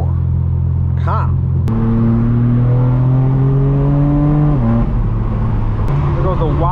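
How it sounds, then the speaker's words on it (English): A BMW M4 Competition G82 coupe drives past on a downtown Los Angeles street. Its loud engine climbs through the revs, drops briefly at a gear change, then pulls again close by, with voices faintly in the background. "Here goes a G82 Coupe"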